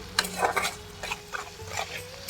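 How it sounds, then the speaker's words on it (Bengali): Onions being fried in a pan and stirred for a hotel-style tadka curry, with clinks and scrapes of a utensil against the pan over a soft sizzle, several distinct stirring strokes. "পেঁয়াজটা ভালো করে ভাজতে হবে, একদম লাল লাল করে।"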